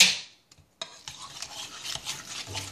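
A spoon stirs macaroni noodles through cheese powder in a pot, a quick clatter followed by steady close scraping and swishing with small metallic clicks.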